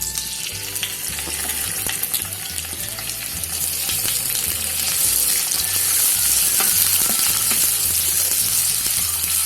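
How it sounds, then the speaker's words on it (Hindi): Onions frying in oil for a chicken karela masala, a steady dense sizzle with stirring clatter throughout, growing a little louder toward the end, no voices. "ये हमने अपना ऑयल डाला। अब हम इसमें आनियन डालेंगे।"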